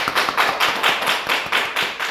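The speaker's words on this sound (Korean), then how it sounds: "우리 최신명 집사님 박수 한번 쳐주세요." A church congregation claps in a steady, even rhythm for about two seconds during a Korean evangelism class, the claps close and loud with no voices over them.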